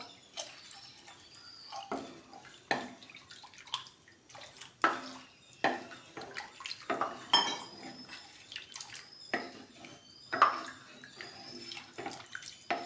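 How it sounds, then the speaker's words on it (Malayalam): Water poured from a vessel into tamarind curry (pulinkari) in a cooking pot, with uneven splashes, drips and sharp clinks of utensils against the pot, close and moderately loud, with no voices. "ആവശ്യത്തിന് കുറച്ചുകൂടെ വെള്ളം ഒഴിച്ചു കൊടുക്കാം."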